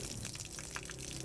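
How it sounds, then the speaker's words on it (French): Water runs from a public water tap fed by a raised storage tank, a steady, fairly faint gushing and splashing that continues throughout. "Ce robinet sert à la distribution d'eau pour le public."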